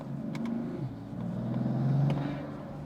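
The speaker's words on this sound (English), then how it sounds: "let me go in manual mode and see what it sounds like when I try to build up a bit of boost manually" A car with a cone air intake fitted builds boost in manual mode, a steady low engine drone swelling gradually as revs climb, heard from inside the cabin.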